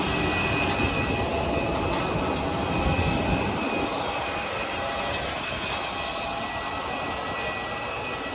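An Air Asia Airbus A320 after landing at Langkawi International Airport, its jet engines giving a steady, loud, broad roar heard from inside the cabin that holds evenly with no pauses.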